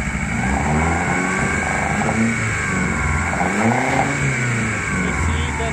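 A car engine fitted with a PWM fuel pump controller revs up under acceleration, a loud continuous rising drone heard close for several seconds.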